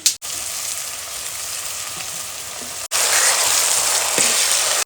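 Sliced onions tipped into hot oil with frying green chillies for a Kathiawadi baingan bharta, giving a loud, steady sizzle that cuts out briefly and then returns louder and more intense.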